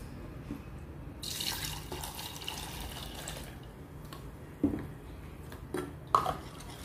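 Fresh milk poured from a cup into a cake mixture, a soft splashing trickle with a few drips and light clinks of a bowl, quiet and close, no talking.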